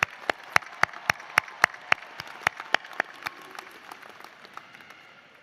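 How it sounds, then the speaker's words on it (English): A commencement audience applauds the graduates with their families and friends. One close, regular clapper stands out in front of a broad wash of crowd applause, which slowly fades. "how about a round of applause for our grads and the families and friends?"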